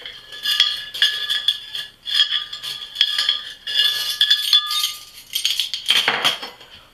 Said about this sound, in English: take a spoon or something just to scrape it down